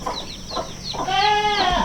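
Chickens cluck and squawk nearby in short bursts, one rising into a longer drawn-out call.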